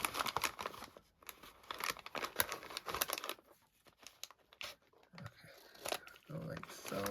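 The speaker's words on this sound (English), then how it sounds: "we're going to just take and snip some of this off" Scissors snip a plastic bingo bag in a string of quick, close, crisp cuts with crinkling plastic between them, each snip sharp and short, while a person talks now and then.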